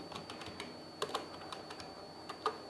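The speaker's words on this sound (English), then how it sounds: "now here we have to type the item names" Typing on a computer keyboard while entering item names into a Python list, with light, irregular key clicks at close range and a few louder taps standing out against a quiet background.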